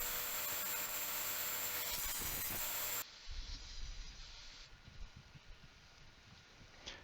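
Wooden strips being cut to 400 mm lengths for a jig: a loud, steady broadband power-saw whine runs for about three seconds, then stops abruptly, leaving quieter rustling and handling noise.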